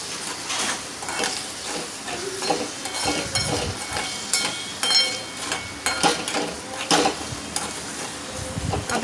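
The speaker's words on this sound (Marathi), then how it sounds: "आता त्याच्यावरती मी टोमॅटो टाकणार आहे। जास्त टोमॅटो झाला, आपण त्याला व्यवस्थित मिक्स करून घेऊया।" Tomatoes and onions frying in a pan for aloo matar are stirred with a utensil, giving repeated scraping strokes over a steady sizzle, close and moderately loud, with no talking.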